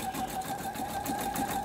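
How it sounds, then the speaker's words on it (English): An embroidery sewing machine stitches out a design, a steady rapid mechanical chatter with a constant whirring drone, close and continuous without talk. "I'm stitching out this design"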